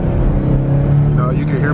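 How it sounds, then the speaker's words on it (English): Ford Mustang 5.0 Coyote V8 with exhaust cutouts open, its low steady engine rumble running close throughout a short stretch while someone talks over it. "I'm gonna do like slow first gear, rev up, high rev."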